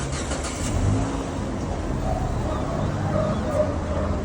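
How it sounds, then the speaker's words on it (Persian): A Samand car engine runs at a steady idle right after a hydraulic power steering repair. It is a continuous, moderately loud rumble with a faint voice briefly in the background. "ماشینتون رو روشن کنیم ببین اون چیزی شده که می‌خوایم"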